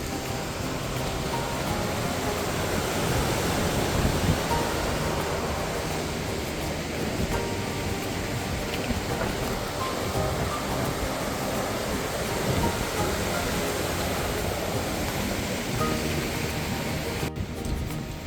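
A river rushing near the Langtang Trek in Nepal, a steady, broadband roar of flowing water that stays loud and constant throughout, with no talk.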